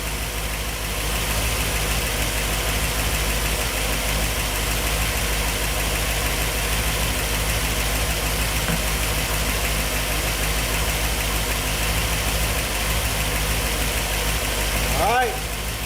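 A 1964 Ford Thunderbird with an FE 390 V8 and a newly fitted fuel-injection system idles steadily after its first start in over 40 years, a loud, continuous rumble close by with no speech over it.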